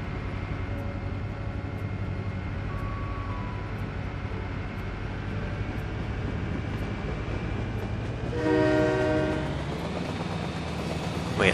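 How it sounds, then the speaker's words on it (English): A train passes in the city-building game SimCity 4, a steady rumbling rail drone with rhythmic clicking that swells louder near the end, mixed with ambient game music and no speech. "Ooh, hey, train!"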